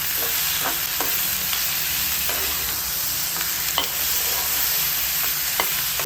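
Tomatoes with three chillies and a pinch of salt fry in a pan: a constant close sizzle broken by repeated light scrapes of stirring, with no voices.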